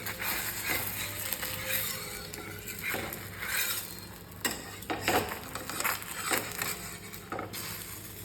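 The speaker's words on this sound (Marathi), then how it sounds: "चला मला अंडा गपचूप पलटून घेऊया" An egg frying in a pan is flipped in a home kitchen, a steady sizzle running throughout with several sharp spatula scrapes and taps near the end, close and moderately loud, no voices.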